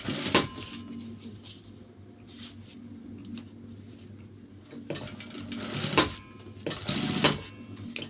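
A sewing machine stitches a shirt collar in several loud bursts of rapid running, with quieter gaps of handling and faint machine hum between them; no one speaks.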